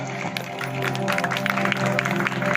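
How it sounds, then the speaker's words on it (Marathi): Audience at a Zilla Parishad school drama clapping steadily at moderate volume, with a faint background hum and no clear speech over the applause. "टाळ्या वाजवा टाळ्या"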